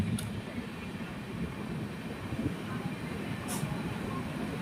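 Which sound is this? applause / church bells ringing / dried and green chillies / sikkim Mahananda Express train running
sikkim Mahananda Express train running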